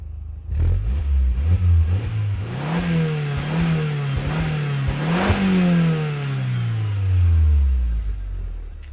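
Engine of an Audi TT MK1 heard from inside the car, idling, then climbing through several revs that rise and dip, peaking around the middle before winding steadily back down to idle, loud and close.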